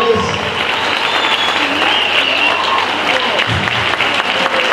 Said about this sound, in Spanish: Les pido un fuerte y caluroso aplauso para todos ellos.